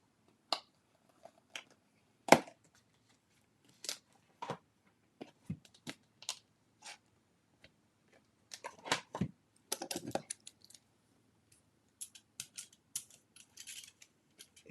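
Sparse, sharp snipping and clicking as scissors cut through a metal paint tube, scattered crisp cuts with a denser flurry partway through, close and quiet between the strokes.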